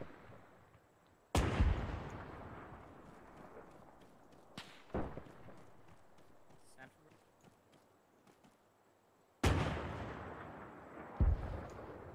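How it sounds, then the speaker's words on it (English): Panzer IV tank cannon fire in a war video game booms in two loud, sharp blasts with long rumbling tails and a fainter shot between them, with voices talking throughout. "The Panzer IV is engaging."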